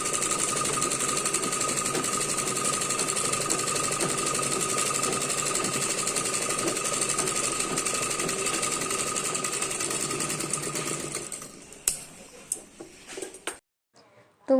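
A sewing machine runs a double line of stitching on a blouse, a fast continuous mechanical whir for about eleven seconds before it stops, followed by a few scattered handling clicks and knocks.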